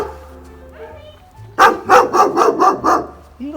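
A small puppy barks in a quick run of five or six sharp, close yaps, after quieter whimpering sounds at the start.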